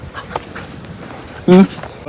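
A single short dog bark stands out against a low murmur of background noise and faint voices.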